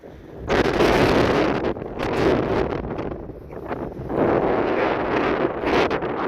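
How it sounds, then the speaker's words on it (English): Strong wind on the sand dunes along the Anglesey coastal path between Aberffraw and Newborough roars in heavy buffeting gusts against the microphone, loud and continuous with surging swells and no talk. "the wind's so strong blowing the sand, the soft sand"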